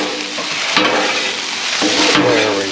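Garlic oil and cooked meat being stir-fried together on a Blackstone griddle give a continuous close sizzle, with two sharper bursts of scraping and tossing as the spatula moves the food.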